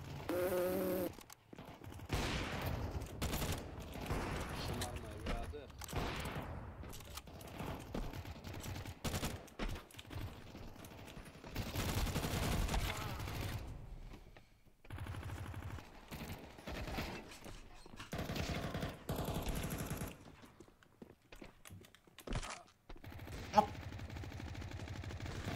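FAMAS rifle gunfire in Counter-Strike 2, loud rapid bursts and sustained automatic fire mixed with mechanical weapon handling clicks and other game effects across a busy match.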